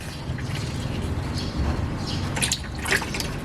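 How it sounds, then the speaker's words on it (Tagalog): Automatic transmission fluid draining from a Nissan Navara, pouring as a steady liquid trickle and splash into a container, close and continuous with a low rumble underneath. "So i-drain ko lang ito, tatagalan ko para makuha ko lahat nung langis niya, bumaba lahat."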